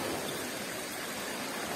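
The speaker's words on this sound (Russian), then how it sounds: "Вот так она стекает, речушечка." A small mountain stream flowing down through forest, a steady rushing wash of water close by, even and continuous with no other sounds standing out.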